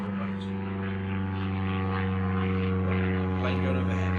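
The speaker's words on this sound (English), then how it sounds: "Plane going overhead." An airplane flies overhead above a river, giving a steady, droning propeller hum that stays fairly constant throughout.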